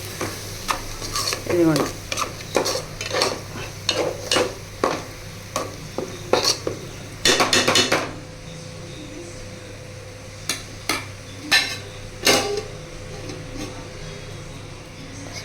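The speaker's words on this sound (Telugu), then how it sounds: "సిమ్లో పెట్టి నేను బాగా ఫ్రై చేస్తానండి." Food fries in a pan over a low flame, a steady sizzle broken by repeated scraping and stirring strokes of a utensil against the pan; a voice speaks briefly.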